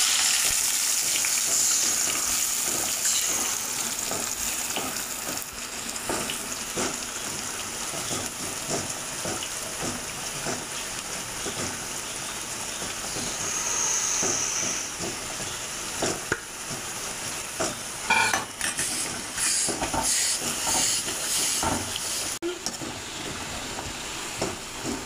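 Chopped onion, garlic, ginger and green chilli fry in hot oil after mustard seeds for an egg curry, making a loud, continuous close sizzle with occasional stirring scrapes and spits throughout, and no talk.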